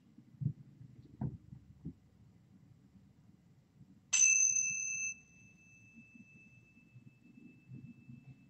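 A single ritual bell rings once during a Gnostic Thelema Rosicrucian mass, a bright clear strike with a long sustained tone that fades over several seconds, alone above a low room murmur with a few soft knocks beforehand.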